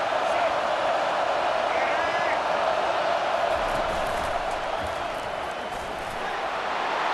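A stadium crowd roars in College Football 25 on a big third down, a dense, sustained wall of cheering that stays loud and steady throughout.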